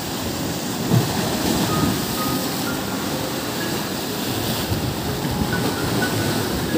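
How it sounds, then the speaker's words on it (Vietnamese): Rough sea waves at a shore near a harbour pier on Phu Quoc make a dense, continuous roar of surf, loud and close, with slight surges and no clear voices. "Hôm nay biển động quá."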